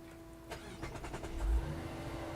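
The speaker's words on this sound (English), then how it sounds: "press the start button to hear that engine roar." A Mazda CX-70 engine turns over on push-button start and catches, then revs briefly with a rising roar before settling into a steady idle.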